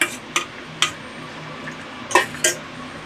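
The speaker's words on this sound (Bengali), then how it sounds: "একদম কড়ার গায়ের থেকে ছেড়ে আসবে ততক্ষণ একটুখানি এরকম ঘোরাতে হবে" A spatula knocks and scrapes against a wok while a thick pointed gourd (parwal) masala is stirred, sharp irregular metallic clicks over a faint low sizzle, close by and with no speech.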